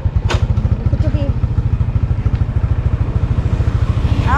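A motorcycle engine putters steadily at close range, its rapid regular pulsing holding low and even as the bike pulls away, with brief voices over it.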